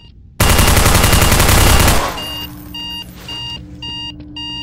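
Bomb defusal in Counter-Strike: Source: a loud burst of rapid gunfire gives way to a steady electronic tone and repeated bright beeping pulses, the beeps continuing alone to the end.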